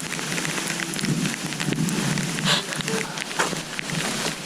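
Steady rain patters on surfaces around a wet campsite in Algonquin Park, with scattered close drops and brief louder spatters, continuous and moderately near with no clear speech.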